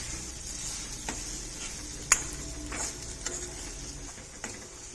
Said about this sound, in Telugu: ఇప్పుడు గ్రైండ్ చేసి పెట్టుకున్న కొబ్బరి, పచ్చిమిర్చి, ఎల్లిపాయ వేస్తున్నాను. పొడి వేశాక ఇలా కలపాలి.